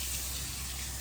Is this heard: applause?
no